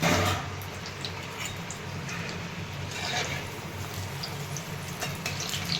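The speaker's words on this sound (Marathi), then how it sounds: "आणि मग मिरच्या तळून घेते" Green chillies for mirchi pakoda frying in hot oil, a steady loud sizzle and crackle with scattered pops throughout.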